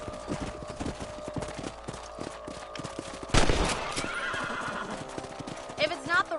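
A horse in Red Dead Redemption gives a loud whinny amid a steady clip-clop of hooves while riding across a ranch, with voices talking and some distant gunfire mixed in.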